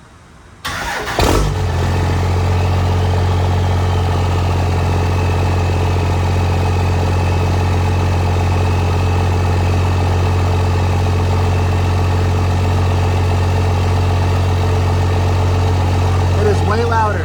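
A 5.9 Cummins diesel truck with a freshly fitted 5-inch straight pipe exhaust cranks and fires up, then settles into a loud, deep, steady idle rumble that carries on for many seconds.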